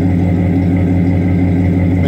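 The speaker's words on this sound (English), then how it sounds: "Man, this car sounds good." A 1996 hearse engine runs at a steady, loud idle, heard up close with an even low rumble and no talking.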